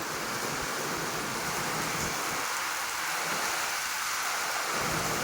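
Heavy rain pours down steadily, a dense, loud rushing hiss that never lets up, close by and with no talking.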